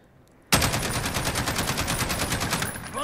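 Sustained automatic fire from an MK 17 rifle with a 20-inch barrel in Call of Duty Modern Warfare, a rapid, loud, steady string of shots that starts abruptly and runs for several seconds without a break.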